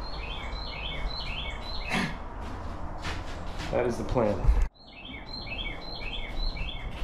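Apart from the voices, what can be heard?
bird chirping outside workshop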